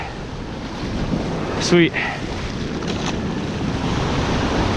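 Steady roar of surf breaking on an ocean beach on a foggy morning, with heavy wind buffeting the microphone throughout and a man's brief spoken word partway through.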